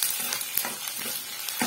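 Garlic and onion sizzle in hot oil with fenugreek seeds in a tadka over a wood-fired stove, a steady close hiss with faint stirring scrapes.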